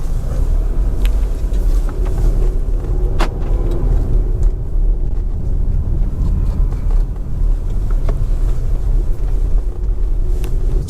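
Audi Q5 TFSI Quattro with a 2-litre turbo petrol engine starting up and then driving, a steady low rumble of engine and road noise heard from inside the SUV, continuous and fairly loud with no talking.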